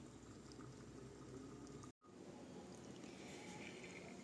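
A pot of olive-oil fresh green beans with onion and tomato bubbles at a continuous soft boil, heard close and faint, with a brief cut of silence midway.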